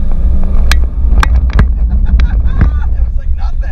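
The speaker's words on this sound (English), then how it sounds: "Yeah, give it a little bit of gas and roll on." Engine of a 2019 Honda Pilot pulling away off-road on a loose surface, a steady low rumble with wind buffeting the microphone and scattered knocks, while people talk inside the cabin.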